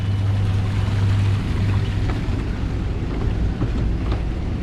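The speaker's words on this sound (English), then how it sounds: "So the engines are already running." Engines of a Princess Y85 superyacht idling during a sea trial, a steady low rumble and drone with a humming undertone, mixed with wind buffeting the microphone and water wash, continuous and fairly loud.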